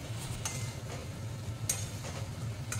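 Shukto vegetables with sugar and salt being stirred and sautéed in a pan: a steady low sizzle with soft scraping stir strokes and occasional light clinks of a spoon against the pan, close and continuous.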